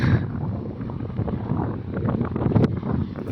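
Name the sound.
wind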